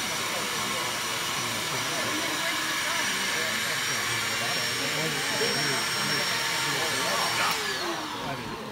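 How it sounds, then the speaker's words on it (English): A vacuum running on a maple syrup filter press gives a steady, loud, broadband roar and hiss that lasts the whole time, while someone speaks over it. "we're gonna turn the vacuum on"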